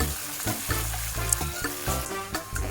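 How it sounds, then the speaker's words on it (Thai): Canned fish sizzles steadily in hot oil in a wok while a utensil scrapes and knocks rhythmically against the wok as it is stirred, close up with no talking. "พอเหลืองหอมแล้วใส่ปลากระป๋องลงไปค่ะผัดให้เข้ากันนิดนึงนะคะ"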